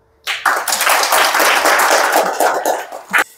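An academic conference audience breaks into applause to welcome the final presenter, a sudden burst of close, dense clapping that holds for about three seconds before tapering off.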